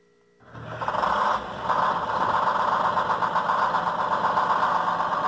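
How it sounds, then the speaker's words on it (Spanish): Original inline 671 diesel engine in a Dina Jorobado truck starts up and runs with a loud, steady, rough idle that holds continuously, with no talking. "Todavía cuenta con su motor original, el 671 en línea. Escúchenlo, qué sonido tan singular tiene este motor."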